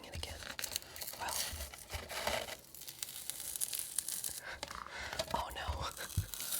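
A Pokémon Scarlet & Violet card pack wrapper is torn open in several crinkly, tearing bursts close to the mic, with soft whispering running alongside.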